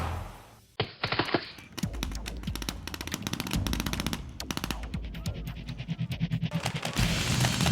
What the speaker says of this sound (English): when you hear a couple rounds, it just makes it seem more realistic